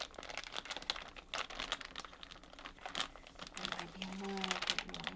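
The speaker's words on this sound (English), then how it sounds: "a promotional wrapping paper or material similar to this" Promotional wrapping paper crinkled by hand at close range in a quiet ASMR setting, giving a continuous stream of crisp crackles and crunchy rustles that rise and fall in intensity.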